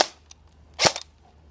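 VFC Elite Force PDW airsoft gun running a LiPo battery fires heavy 28 gram BBs, giving one sharp, loud crack that fades quickly, with a fainter click just before and quiet afterward.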